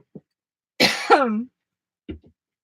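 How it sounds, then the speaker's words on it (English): A single hoarse cough with a raspy throat-clearing edge, close and fairly loud, framed by brief soft mouth sounds and quiet gaps. "I keep having a tickly cough."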